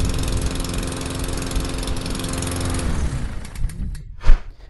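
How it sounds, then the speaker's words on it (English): A clogged PlayStation 4 fan roaring with a loud, steady lawnmower-like rumble that drops off after a few seconds, followed by a few faint clicks and a brief louder thump near the end. "does it sound like the neighbor down the street starting a lawnmower ready to cut the grass?"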